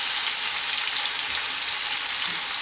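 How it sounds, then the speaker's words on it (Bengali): Potatoes fry in a pan with turmeric and salt, giving a steady, loud, close sizzle that hisses evenly without pause. "আলুটা আমি লাল লাল করে ভেজে নেব"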